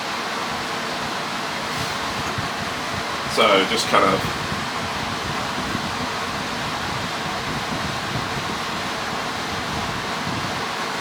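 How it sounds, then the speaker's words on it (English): An air scrubber fan runs in a woodcarving workshop as a steady broadband whoosh throughout, with someone talking briefly over it. "Excuse the fan going, just got the scrubber on still."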